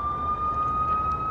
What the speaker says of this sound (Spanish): Anda la patrulla por allá afuera